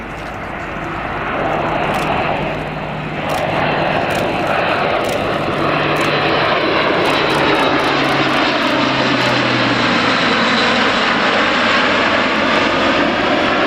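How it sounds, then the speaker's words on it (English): Airbus Atlas C1 military transport aircraft flying in over a tree line at an air show, a loud sustained engine drone and propeller roar that builds and stays strong throughout. "And here it is, coming in over the tree line, the Atlas C1."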